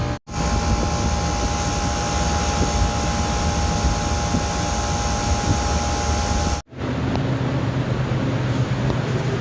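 A walk-in freezer's repaired refrigeration unit runs with a loud, steady mechanical roar and drone, briefly cutting out before resuming, close by and with no talking.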